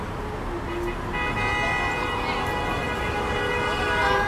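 Car horns sound at a street demonstration outside the Hawaii State Capitol. Long, sustained horn tones blend over steady traffic rumble, with a shorter toot early on.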